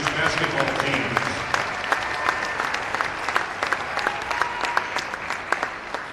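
A crowd applauds a middle school girls' basketball team at a school gym event, steady full clapping throughout with scattered voices and cheers mixed in.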